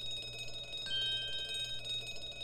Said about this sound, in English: This would appear to be an alarm bell. All hell would break loose if that thing were to ring.